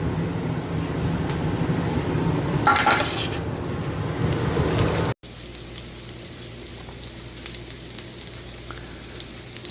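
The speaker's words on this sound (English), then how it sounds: "The onions caramelizing." Onions caramelizing in a pan give a steady close sizzle, with a brief clatter of a utensil midway; after a cut the frying continues more softly, with no voices.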